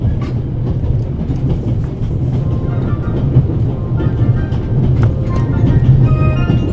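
A train from the video game The Raven rolls steadily along with a loud, continuous rumble and faint rhythmic clatter of wheels on rails, with no talking over it.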